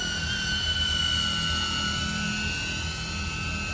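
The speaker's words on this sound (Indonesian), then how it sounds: "DJI Avata, drone rekomendasi drone FPV untuk pemula ya" A DJI Avata FPV drone flies with a steady, high-pitched propeller whine and even buzzing hum, close and constant throughout.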